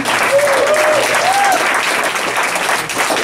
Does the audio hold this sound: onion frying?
no